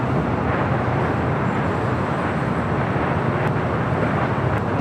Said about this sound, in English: Asiana A380 Super should be starting taxi here shortly and heading to the south side for a takeoff on 25 left